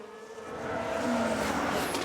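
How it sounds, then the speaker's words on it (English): A Ferrari Formula 1 car spins out in F1 Manager 2022, its engine note whining and rising in pitch with a tyre-squeal streak as the sound swells from moderate to loud. "Someone spun out. Let's take a look at the replay. Okay, here's the Ferrari."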